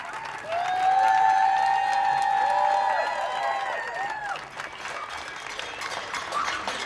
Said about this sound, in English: Nation's applause is designed to be heard by the NHS